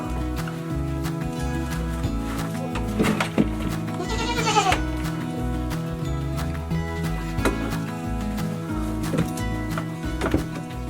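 Milking goats bleating during a hoof-trimming session, several close, repeated calls over a busy background with occasional clatter, no one talking.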